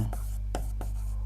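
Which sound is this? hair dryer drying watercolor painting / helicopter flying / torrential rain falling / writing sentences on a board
writing sentences on a board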